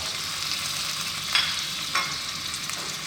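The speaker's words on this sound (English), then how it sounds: "We're simply going to add in our curry leaves, our garlic ginger, and our pandan or rampa." Curry leaves, garlic, ginger and pandan frying in hot coconut oil for a Sri Lankan fish curry, a steady close hiss and crackle with a couple of sharp spatter pops, no talking.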